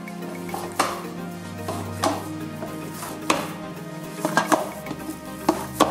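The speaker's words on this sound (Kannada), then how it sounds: "ಇವಾಗ ನಾವು ಕೈಯಲ್ಲಿ ಹಿಟ್ಟನ್ನ ಹದವಾಗಿ ನಾದ್ಕೊಳ್ಳೋಣ." Banana, sugar and flour dough kneaded by hand in a bowl, with soft squelching and pressing sounds mixed with occasional clinks and knocks against the bowl, close and steady, no talking.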